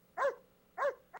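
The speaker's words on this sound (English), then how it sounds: "it's very cool to have dogs barking and Freud talking and all that stuff." A recorded dog bark plays from a website on a PC, two clear, moderately quiet woofs evenly spaced, followed by a brief short yip, with no talking over them.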